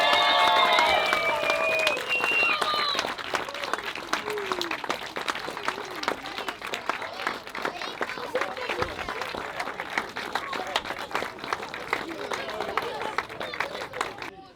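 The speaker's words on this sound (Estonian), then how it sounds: "Joonas Samm, aplaus!" Crowd applause at a karting awards ceremony at the Käina kart track, clapping and cheering rising at the start with a brief whistle-like tone, then settling into sustained, dense clapping mixed with some chatter.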